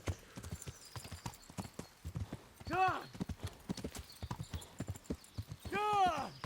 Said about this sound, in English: Just press the whistle button, and then your horse will just spawn in.